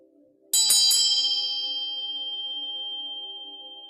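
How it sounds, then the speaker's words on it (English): A Tibetan bell cast from seven melded metals is struck once, with a quick chatter of contact at the attack. A bright, clear ring follows and sustains, decaying slowly with a steady shimmer across the whole clip. "So this bell is a Tibetan bell,"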